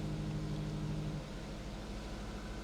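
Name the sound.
C7 Corvette engine running and smoothing out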